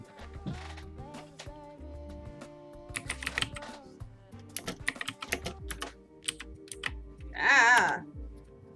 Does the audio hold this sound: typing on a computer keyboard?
yes